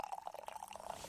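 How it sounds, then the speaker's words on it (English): Hot coffee poured to refill a cup, a short liquid stream with a bubbling, rising gurgle as the cup fills, close and fairly quiet. "I'm just gonna refill my coffee."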